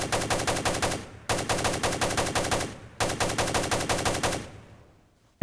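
An AK-47 rifle fires three rapid full-auto bursts on a firing range in the Ground Branch video game, loud, sharp reports in fast, even rhythm, each burst ending in a brief reverberant tail before the next.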